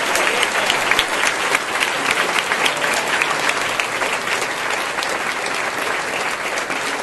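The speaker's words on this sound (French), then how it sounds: "Donnons-lui un fort applaudissement" Strong, sustained applause from a church congregation, dense and loud, rolling continuously for several seconds with no speech over it.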